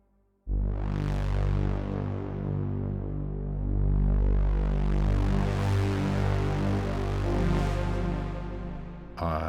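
A big, sustained synthesizer pad swells and slowly sweeps in brightness, droning steadily with a deep low end before cutting off.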